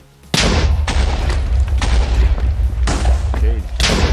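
Repeated booming blasts from the video game Bomb Buddies, several loud explosions spaced roughly every half second to a second, with a voice speaking between and under them.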